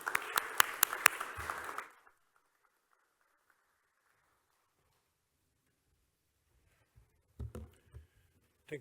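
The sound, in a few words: audience applause at seminar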